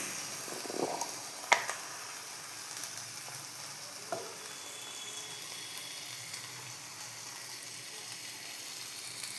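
Onion fries in a pan after salt is added, giving a steady, even sizzle with a few faint clicks and stirring taps and no talking.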